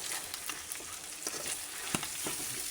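Chicken sizzles steadily as it fries over low heat in a pan, with scraping stir strokes and small spatters popping through the continuous hiss, close and fairly quiet, with no talking.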